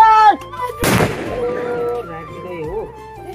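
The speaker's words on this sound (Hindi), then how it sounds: "और ताई जी पटाखा फोड़ने वाली है" An atom bomb firecracker explodes in a hill village during the Igas festival in Uttarakhand, a single sharp, loud blast close by that decays over a second, with voices and background tones around it.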